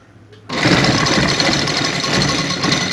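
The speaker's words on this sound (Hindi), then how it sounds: "इस तरीके से जिग जैग वाली जो सिलाइयाँ हैं जो हम लगा रहे हैं, ये सारे पंचों के ऊपर पूरी करेंगे।" A sewing machine runs steadily, close and loud, stitching a zigzag seam along the hem of a salwar, starting abruptly after a brief quiet moment and continuing without pause.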